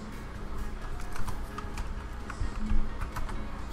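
Keys clatter on a computer keyboard during PC play of Halo Online, with rapid irregular clicks at a moderate, close level over a steady low background hum.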